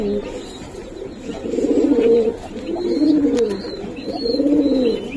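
Pigeons of the Baghā Khaki breed coo in repeated rolling, throaty bursts close by, several calls in steady succession, with people talking at a low level in the background.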